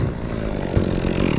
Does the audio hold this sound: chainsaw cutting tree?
yes